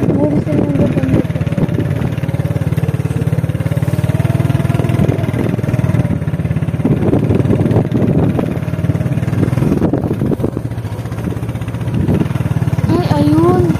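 Motorcycle engine idling and puttering steadily close by on Cagbalete Island, a continuous low throb with a rev near the end, while people talk over it.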